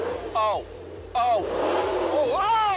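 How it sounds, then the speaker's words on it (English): A car engine revs in three sharp bursts, each climbing then falling away, loud and close with short quiet gaps between. "let's hear what this motor sounds like"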